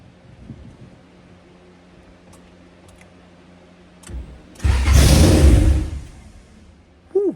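A 1999 Honda Civic with a turbocharged B-series engine and no downpipe, open turbo, bursting into a loud roaring blast for about two seconds after quiet ticking, then cutting off, with a short final burst.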